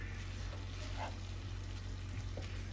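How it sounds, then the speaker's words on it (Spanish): Onion, bell pepper and garlic sauté in oil, a steady quiet sizzle with a couple of faint stirring clinks, close and soft with no talking. "seguimos sofriendo"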